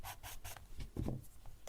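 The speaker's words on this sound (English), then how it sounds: "sound of graphite on paper" A graphite pencil sketches on paper, recorded close with binaural microphones: a few soft, rhythmic scratching strokes, then a brief, quieter rub.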